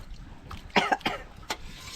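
A short burst of two or three coughs close by, followed by a single softer cough a moment later, against quiet background.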